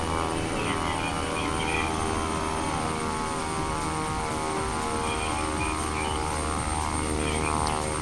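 An aircraft engine in Flight Simulator X drones steadily throughout, a constant tonal hum with a higher whine, even and unbroken, with no talking.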